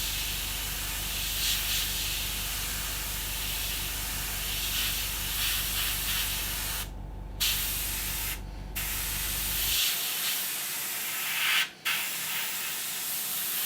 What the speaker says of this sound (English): just blow out the airbrush